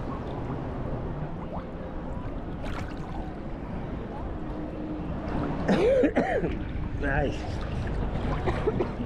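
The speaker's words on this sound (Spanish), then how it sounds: "Todavía seguimos con la tos" A person coughs a few times, a rough throaty burst midway, over steady running water and background talk.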